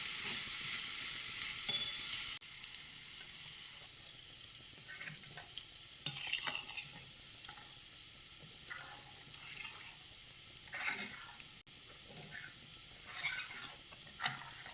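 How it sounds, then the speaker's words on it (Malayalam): Bitter gourd frying and crisping in a hot pan for a simple home dinner, a steady close sizzle with occasional stirring scrapes and crackles running throughout, no talking. "നമുക്ക് പാവയ്ക്ക ഒന്ന് നോക്കാം, പിന്നെ ചെറുതായിട്ട് മൊരിയട്ടെ."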